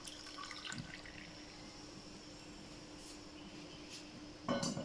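Hot water trickles quietly and steadily as it is poured into a container, a faint liquid stream with a slight splash near the end, no voices.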